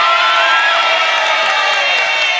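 On the Family 100 game show set, a studio crowd claps and cheers with whoops for a newly introduced contestant, a loud, continuous roar of mixed voices and applause filling the whole stretch.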